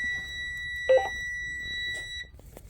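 Steady electronic warning beep from a Thomas C2 Conventional truck cab, sounding because the headlights are left on after the engine is shut off; a continuous high tone that cuts out near the end, with a faint bump of handling noise.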